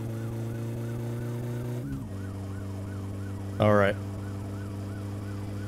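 A police siren wails in My Summer Car, its rising and falling tone sweeping steadily over a constant engine drone, with a brief loud burst near the middle and a short spoken word.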